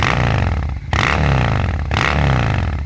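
A 2006 Honda VT 600 Shadow VLX V-twin runs loud and close with a deep, lumpy idle, briefly cutting out twice before catching again and thumping on steadily.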